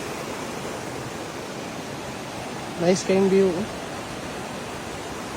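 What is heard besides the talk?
waterfall at Curtain Falls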